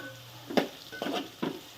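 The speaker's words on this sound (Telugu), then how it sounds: "పసుపు వేసిన తర్వాత ఇలా గంటతో తిప్పుకోవాలి" Onions with turmeric sizzle in a pan as a ladle stirs them, giving three distinct scraping stir strokes over a faint, steady frying hiss, close and with no talking.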